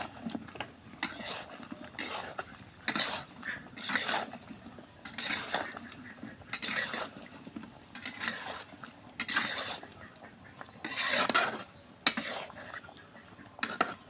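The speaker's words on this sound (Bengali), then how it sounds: "নাড়ে চাড়ে দিব।" A spoon stirs mixed vegetables in oil for a thin curry in a cooking pot, scraping and clinking in repeated close strokes with soft sizzling underneath and no talking.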